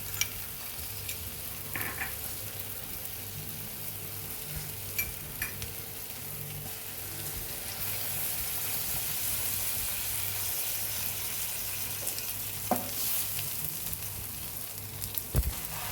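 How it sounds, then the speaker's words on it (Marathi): Buttered pav bread rolls toasting in a pan, a steady soft sizzle throughout with occasional light clinks and scrapes of the pan, no voices. "हा दुसराही पाव शेकवून घेऊया आपण, त्याला मी बटर लावले।"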